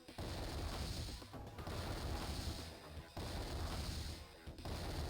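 Artillery fire from the Advance Wars 2 video game plays as dense, continuous rumbling booms and crackling blasts, loud and sustained with brief dips between barrages.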